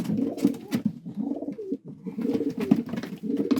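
Several racing pigeons coo continuously in low, throaty rolling calls, overlapping one another with a brief lull midway, close by.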